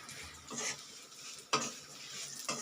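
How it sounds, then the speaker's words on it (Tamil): Flattened rice (aval) roasting in ghee in a pan, stirred with a ladle: a few soft scraping strokes with a faint sizzle underneath, quiet and close, with no voices. "இதே நெய்யில் நம்ம அவல் நல்லா வறுத்துக்கலாங்க"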